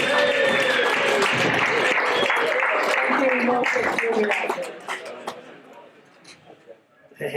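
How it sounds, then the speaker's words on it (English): An audience in a bar venue applauds the event's hostess, steady clapping under an amplified voice speaking, then fading away near the end. "Can we go a big round of applause for Maz, please?"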